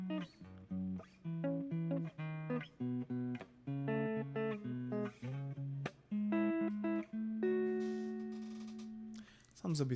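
An electric guitar on its neck pickup plays a run of warm, rounded notes and chords, ending on a long sustained note that rings out.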